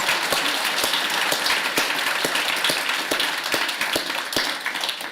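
Audience applause at a mayoral debate, a loud steady round of many hands with a few distinct sharp claps standing out near the front, fading slightly toward the end.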